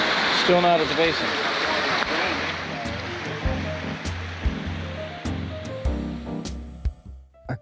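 Broad rushing water of a wide, gravel-bedded creek on a mountain hike, steady and fairly close, with children's and adults' voices talking over the flow.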